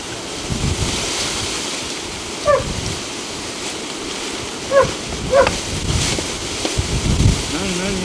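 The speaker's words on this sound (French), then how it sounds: "Il y a du vent à mort." Loud wind buffets the microphone in a constant rumbling roar during a downpour, with surf-like surges and a few brief barks or calls breaking through.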